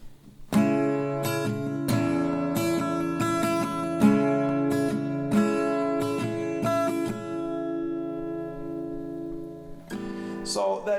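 Acoustic guitar playing a song's chord progression at normal tempo, with rhythmic strums ringing out close and full. A final chord fades near the end before a brief extra strum.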